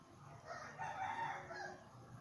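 A rooster crows faintly at a distance, a drawn-out call rising and falling over a low background hum.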